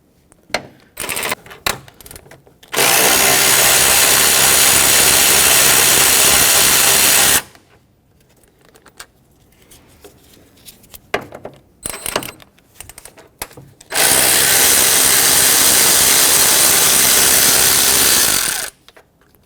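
A power tool runs out two 10mm bolts from the radiator support bracket of a 2006-2010 Hyundai Sonata, two long loud whirring bursts close up, with clanks and tool handling between them.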